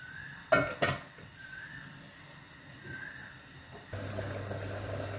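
A metal lid goes onto a cooking pan of simmering paneer butter masala with ginger-garlic paste, giving two quick close clanks near the start, followed by a low steady bubbling and kitchen hum.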